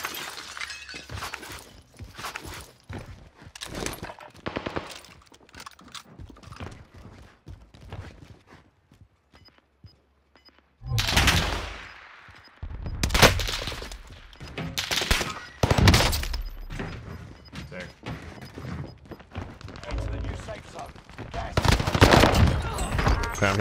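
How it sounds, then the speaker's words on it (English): An anti-aircraft gun fires in Warzone Pacific, a loud run of rapid bursts and sharp cracks that come in clusters and build toward the end, with players talking over the shooting. "I'm getting fried by an AA gun, dude."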